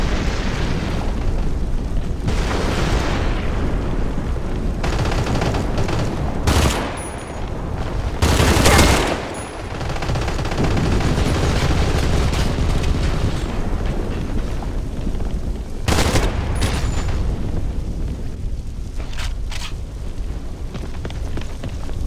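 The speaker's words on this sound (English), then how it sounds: "Throwing grenade!" Explosions and heavy gunfire in the CrossfireX multiplayer shooter on Xbox Series X, with loud, continuous automatic fire broken by several big booming blasts, one grenade detonation standing out mid-sequence.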